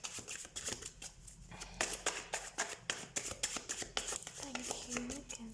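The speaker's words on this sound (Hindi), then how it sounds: "सबसे पहले हम कार्ड शफल कर लेते हैं" Tarot cards are shuffled by hand in a series of soft, rapid riffling bursts, close and fairly quiet, with brief pauses between handfuls.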